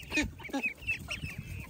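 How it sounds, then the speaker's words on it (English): Chickens clucking and squawking nearby in short, irregular calls, with a low rumble of background activity. "the chickens are trying to come over here and see what's going on"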